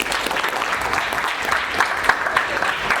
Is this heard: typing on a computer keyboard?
no